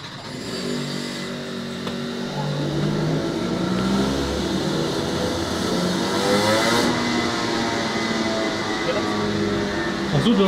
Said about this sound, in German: Ich gebe gerade Gas